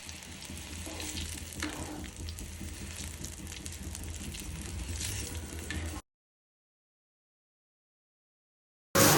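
Pasta heating in a pot of water on a gas stove, a steady low sizzle and bubbling hiss for several seconds before it cuts to silence, then a brief burst at the very end.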